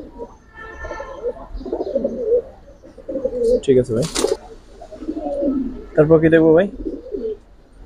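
Giribaj pigeons cooing in soft, repeated bursts close by, mixed with someone talking and a couple of sharper rustling or fluttering noises.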